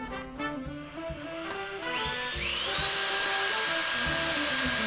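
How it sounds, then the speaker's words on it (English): A power drill bores a pilot hole through the bottom of a stainless Sanke keg, a steady whine that builds and holds over the last half, with metallic ringing tones and no talk. "I'm going to want to drill a pilot hole"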